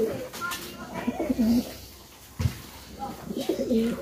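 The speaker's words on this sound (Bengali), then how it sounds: "আমার খুব পছন্দের কবুতর হচ্ছে হলুদ সিরাজ" Yellow Siraj pigeons give a couple of soft, low cooing phrases close by, one early and one near the end, mixed with people talking.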